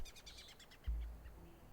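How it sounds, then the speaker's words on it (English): Several birds chirp and call in a forest setting within the Werewolf: The Apocalypse – Heart of the Forest video game, a rapid series of bright high tweets over the first second before a low thump and quiet ambience. "High in the trees, birds yelled about status, sex and violence."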